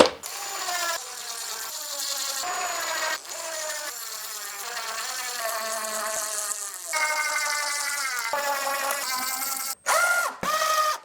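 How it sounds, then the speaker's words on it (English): A power driver sinks 1 1/2 inch GRK trim head screws into a cedar planter board: repeated bursts of whining, ratcheting motor noise, each stopping abruptly before the next screw. "It's easier to start the screws while it's laying flat, so I'm going to put 2 on each end of the board here."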